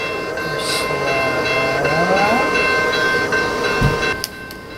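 Simulated train sounds, played at varying speeds, rumble steadily with a rising whistle-like sweep in the middle and a brief thump near the end, loud and continuous with no talking.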